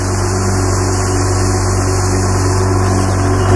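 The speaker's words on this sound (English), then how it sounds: "Listen to that engine purr." The engine of a Zamboni ice resurfacer runs at low speed on an ice rink, giving off a steady, close, even hum with a continuous high whine laid over it and no talk.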